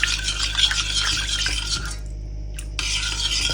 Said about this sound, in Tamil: கட்டி பிடிக்காமல் கிளறி விடணும்